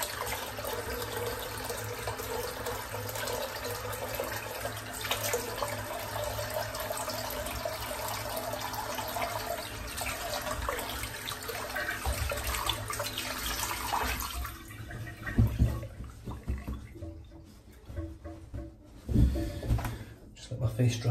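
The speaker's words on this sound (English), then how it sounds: "Just let my face dry off, rinse the brush out." A tap runs steadily while a shaving brush is rinsed at a sink after a wet shave, with someone talking over it. Near the end the water gives way to sparse splashes and clatter.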